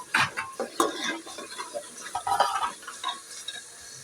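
Ginger, garlic and green chillies frying in oil in a home kitchen, a soft sizzle broken by scraping stirs and light clinks of a spoon against the pan, close and without talk.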